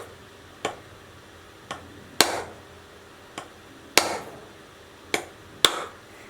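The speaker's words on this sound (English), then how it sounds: "I have this little spare piece of PVC pipe, and I put it right there, and I just hit it." A spare piece of PVC pipe is struck against a two-piece pumpkin mold, giving seven sharp, separate knocks at irregular intervals, some louder than others, close by in an otherwise quiet room with no speech.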